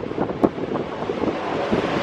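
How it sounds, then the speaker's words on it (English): Strong wind buffets the microphone on the open-air observation deck of the Empire State Building in New York, a steady roaring rush with gusty swells and a sharp thump near the start, no voices. "It's really windy today but also sunny"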